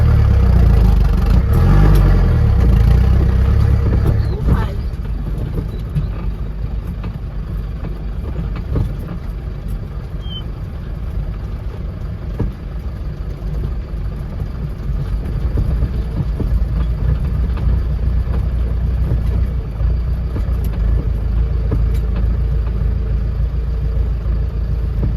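A car rolls along a bumpy, potholed country road between Palmeiras and Guiné in Bahia, Brazil, giving a steady low engine rumble and road noise that is heavier in the first seconds, with no talking.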